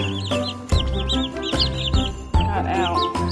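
Chickens, with baby chicks among them, cluck and peep close by inside a chicken tractor, giving repeated high chirps and lower clucks over a few soft thumps of movement.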